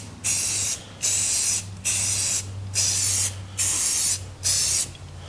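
Seven short bursts of aerosol spray hiss on and off in a steady rhythm, each lasting about half a second, close and loud.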